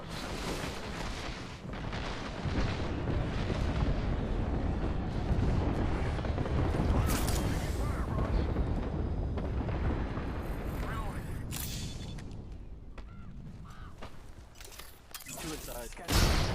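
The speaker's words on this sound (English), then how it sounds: "Heads up, we got an airstrike on us." Airstrike in the Apex Legends battle royale game: a long stretch of heavy rumbling booms and crackling blasts rolling continuously, loud and dense, with gunfire and voices mixed in.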